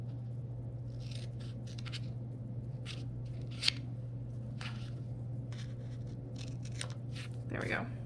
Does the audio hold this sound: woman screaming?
no